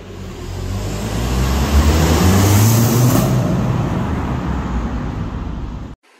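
A Vauxhall Corsa VXR driving past, a loud close engine roar that swells and holds, then cuts off abruptly near the end, with no talking.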